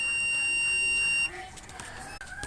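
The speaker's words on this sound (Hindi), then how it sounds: "मल्टीमीटर को रख दिया कंटिन्यूटी मोड पे। अब मैं आपको बीप की साउंड सुना के दिखा देता हूँ" A multimeter in continuity mode gives a steady, loud electronic beep lasting about a second, then cuts off, leaving quieter room noise with faint handling sounds.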